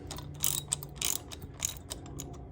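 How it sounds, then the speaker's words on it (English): Bolts being run down with a ratchet on the prop hub of a DLE170 model airplane engine, fitted through holes in 1/8-inch aluminum with a 13 mm socket; several close, crisp ratcheting bursts in an irregular rhythm. "So I'm gonna run my bolts down."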